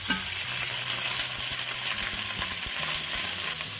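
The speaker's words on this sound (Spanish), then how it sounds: "los vamos a freír por 3 o 4 minutos hasta que estén bien cocidas" Longaniza sausage fries in oil in a pan, giving a loud, close, continuous sizzle and crackle with small pops and stirring clatter throughout.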